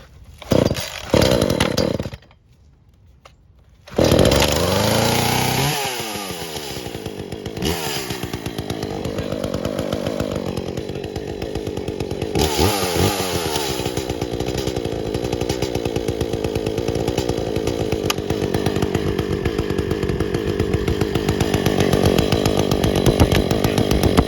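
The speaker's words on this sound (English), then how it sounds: "we're gonna crank the chainsaw" An Echo CS-400 gasoline chainsaw is pulled and started, idling briefly, then revs into a loud, steady running roar that continues close by for a long stretch.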